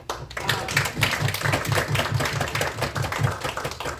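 A small audience gives a round of applause for conversation guests at a dialogue and negotiation training event in Washington D.C., with dense, steady clapping lasting throughout.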